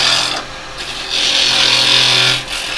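A woodturning gouge cutting a spinning piece of wood on a lathe, giving a loud, close, steady hissing rasp that swells and eases as the tool passes across the wood, with no talk.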